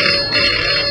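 An old telephone bell in a 1963 Bollywood film rings in one short, steady burst, loud and on its own.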